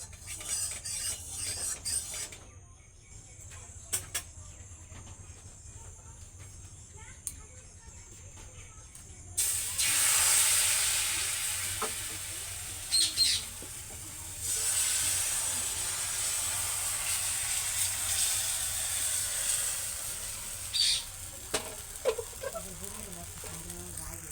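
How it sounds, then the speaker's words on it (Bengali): Oil hisses and sizzles as crepes fry in a wok, growing louder partway through and continuing steadily, with occasional clinks and faint background noise. "এবার আমি পাটি সাপটাগুলো ভেজে নেব তো একটা কড়াই বসিয়ে দিয়েছি"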